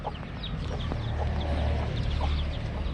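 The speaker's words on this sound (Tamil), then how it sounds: "கோழியெல்லாம் பெரிய கோழி அங்கே பாருடா, சேவல் சாப்பிட்டுட்டு இருக்கு." Chickens and a rooster clucking together at a home farm, a steady murmur of soft clucks over a continuous low background rumble, fairly close and moderately loud.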